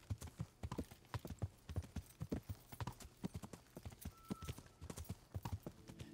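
Horse hooves clip-clop at a steady walking rhythm on a road in the medieval video game Kingdom Come: Deliverance, clear and fairly close, with a faint whinny-like tone partway through.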